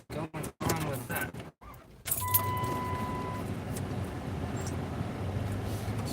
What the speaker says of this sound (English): This truck getting old.